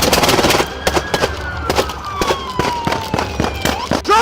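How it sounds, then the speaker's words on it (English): Rapid bursts of gunshots crack out during a police pursuit of a fleeing suspect vehicle, a loud run of sharp reports with a faint siren-like tone sweeping underneath. "Shots fired!"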